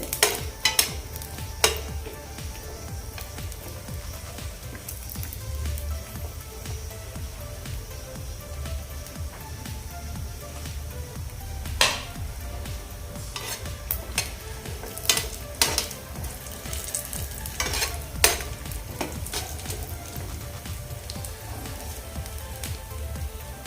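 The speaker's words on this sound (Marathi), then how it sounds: "आपलं हे खोबरं व्यवस्थित भाजलं तांबूस रंगावर येईपर्यंत आपण हे खोबरं भाजायचं आहे" Grated dried coconut being stirred and dry-roasted in a pan until golden brown, for Puneri spicy misal: a steady soft frying hiss with light scraping stirs and occasional clicks, close by and alone.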